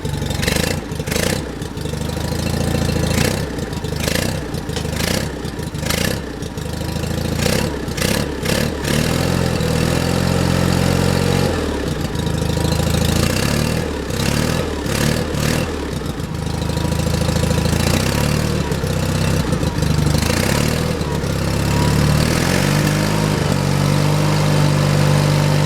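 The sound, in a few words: John Deere 316 lawn tractor engine idling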